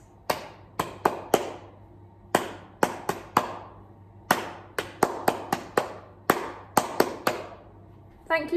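Hand clapping in a rhythm lesson, sharp, close claps in short grouped patterns with brief gaps between phrases, alone and steady.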